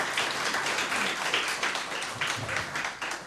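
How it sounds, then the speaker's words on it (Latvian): Conference audience applauding a speaker, dense steady clapping from a room full of people, close and sustained throughout with a few voices faintly underneath. "Paldies viņai vēlreiz uztaisam kārtīgs aplauss"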